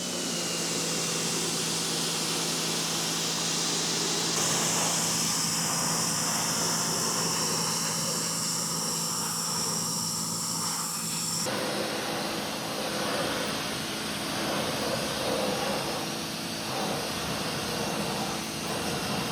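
Pressure washer fitted with an AVA pump action nozzle set to a 25-degree spray, blasting a car wheel and tyre clean; a loud, continuous roaring spray with the pitch shifting as the nozzle moves, no talk.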